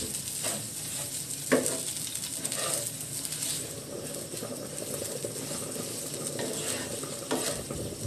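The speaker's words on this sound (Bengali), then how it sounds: "এভাবে নেড়ে চেড়ে কিছুক্ষণ এটা রান্না করে নেব" Taki fish mash with chilli flakes and salt being stirred in a pan, a steady close sizzle with scraping spatula strokes and occasional sharper clacks throughout.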